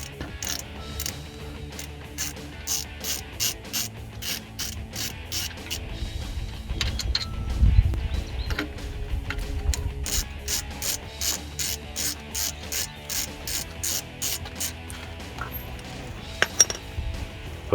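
A socket ratchet fitted with a 19 mm socket clicks in rapid bursts while loosening the brake caliper nuts on a 2007-2018 Silverado 1500, close up, with occasional clinks of metal between strokes.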